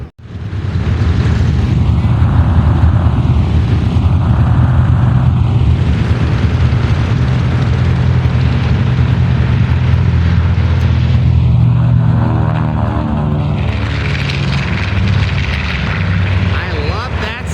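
World War II propeller warplanes break away one after another from a formation flyover at an airshow, their engines roaring loud and close, rising and fading as each passes overhead.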